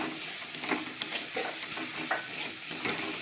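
Red amaranth greens, sweetened with a little sugar, sizzle steadily in a frying pan while a utensil stirs them with several quick scrapes. The sound is close and moderately loud, with no speech.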